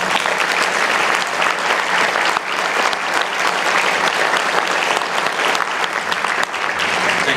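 An audience at an alumni association award ceremony claps loudly and continuously, a dense, steady wash of applause lasting throughout with no voices on top.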